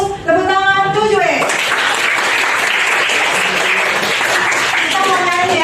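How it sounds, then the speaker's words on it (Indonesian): A class of students bursts into loud, dense applause after a short stretch of talk, clapping together for several seconds before a voice returns at the end. "Tepuk tangan 7E."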